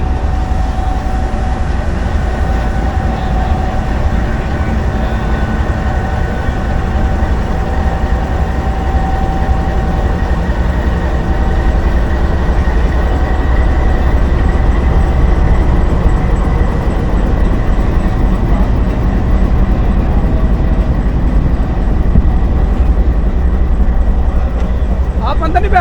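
Pakistan Railways train led by a GU20 locomotive pulling out of Lahore, a steady loud low rumble of engine and rolling wagons lasting throughout, with voices murmuring nearby.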